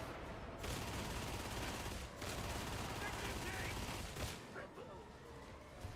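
Gunfire from a video game sniper rifle rings out in repeated sharp bursts, loud and dense, amid continuous game noise and some voices.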